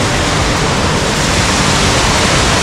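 Loud, constant roar of falling water, dense and unbroken, like standing near a waterfall.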